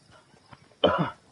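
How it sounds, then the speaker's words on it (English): A Fortnite character infected with a virus lets out a single harsh cough after faint background murmur, close and short. "I've got the virus. I'm coughing."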